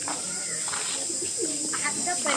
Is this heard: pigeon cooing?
yes